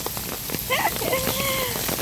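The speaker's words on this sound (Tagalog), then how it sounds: "Lakas ng ulan, pero okay lang, hindi naman gaanong malakas." Heavy rain patters steadily on an umbrella during a walk to a pharmacy, a dense, constant hiss of drops close overhead with brief tonal sounds and some background noise mixed in.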